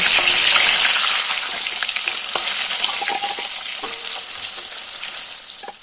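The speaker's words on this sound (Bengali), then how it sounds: "তেলটা গরম হয়ে গেছে এবার মাছটা ভেজে নেব" Katla fish pieces rubbed with salt and turmeric fry in hot mustard oil, a loud close sizzle that starts strong and gradually eases, with scattered spitting pops and no speech.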